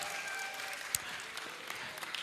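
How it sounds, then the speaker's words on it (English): An audience at a Kenyan 18th anniversary celebration claps and cheers in a steady, dense wash of applause, with a few sharper claps standing out. "Give it a cheer, give it a cheer."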